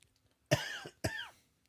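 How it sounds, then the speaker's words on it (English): Two separate harsh coughs from one person, close and fairly loud, with a short pause between them and quiet before and after. "And I'm coughing."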